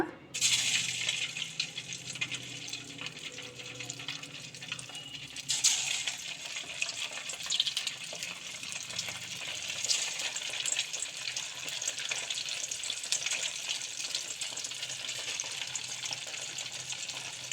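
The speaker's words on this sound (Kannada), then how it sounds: "ಉದ್ದಿನ ವಡೆ ಶೇಪ್ನಲ್ಲಿ ಮಾಡಿಬಿಟ್ಟು ಎಣ್ಣೆಯಲ್ಲಿ ಕರಿಯೋಣ" Rava vada, shaped like urad dal vada, frying in hot oil, a steady dense sizzle that surges when more vadas drop in and then keeps crackling evenly throughout, close and continuous with no talk.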